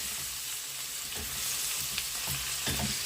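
Carrots fry in hot oil in a pan, a steady close sizzle with soft stirring scrapes now and then, no voices.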